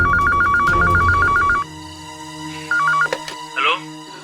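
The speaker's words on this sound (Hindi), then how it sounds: "ये लीजिए, घंटी बज रही है।" A telephone rings in repeated electronic trills, loud at first, then a shorter burst follows amid quieter background sounds and a brief voice.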